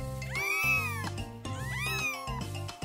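A mother cat and her newborn kittens meow indoors: two loud, drawn-out, rising-and-falling cries, close by, over a quieter background of smaller mewing.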